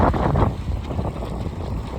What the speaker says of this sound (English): It is very windy, I apologise.